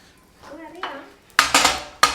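A spatula scrapes hard against a cooking pan while ghee roast dosa is made, three sharp, loud scraping strokes following a faint voice and soft clatter at the start.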